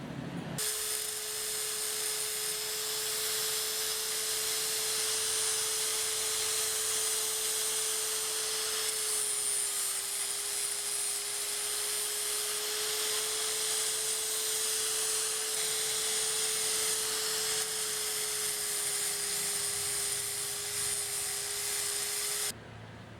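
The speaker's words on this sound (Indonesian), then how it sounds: "Lalu karatnya akan saya amplas menggunakan gerinda." An angle grinder sands rust off a spin mop spinner, running continuously at a steady high-pitched whine, close by, with a harsh gritty hiss throughout and no talking.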